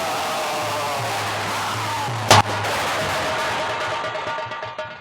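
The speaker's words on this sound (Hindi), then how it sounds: "ये पटाखे दगाना बंद कर दो" At an outdoor nautanki folk-theatre show, a single firecracker bursts in one sharp, loud crack. It sits over a steady wash of crowd and stage noise.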